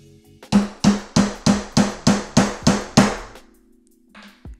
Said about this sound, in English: you hammer your letters into this titanium plate